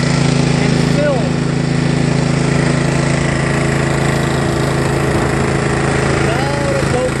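A John Deere LA105 riding lawn tractor engine drones steadily and loudly throughout, with a constant buzzing hum heard up close from the seat.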